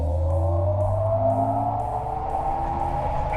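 A 2022 GMC Hummer EV Edition 1 launching hard in Watts to Freedom mode, a steady loud electric motor whine that climbs in pitch over the few seconds, with road and tire noise underneath and no talk.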